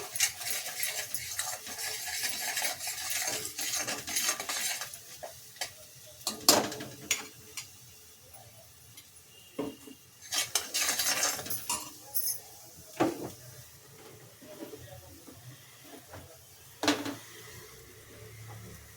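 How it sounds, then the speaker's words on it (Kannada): Masala for a vegetable saagu is stirred and fried in a pan, with quiet sizzling under intermittent scraping and clinks of a spatula against the pan, close but faint. "ಈ ರೀತಿಯಾಗಿ ಚೆನ್ನಾಗಿ ಮಸಾಲೆ ಎಲ್ಲ ಫ್ರೈ ಮಾಡಿಕೊಡಿ ತಲಾ ಹಿಡಿಸ್ಬಾರ್ದು"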